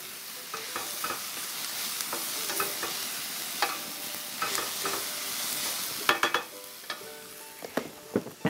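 Onions browning in a frying pan sizzle steadily, with scattered louder crackles and clatter from stirring that grow sharper toward the end.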